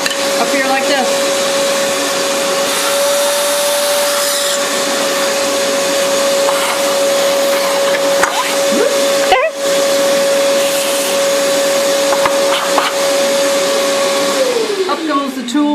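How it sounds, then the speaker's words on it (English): A vacuum cleaner runs steadily and loudly while cleaning out a Nuova Simonelli Grinta coffee grinder, a constant whine holding until it winds down near the end, with brief clatters of the nozzle against the grinder. "Let me vacuum that out."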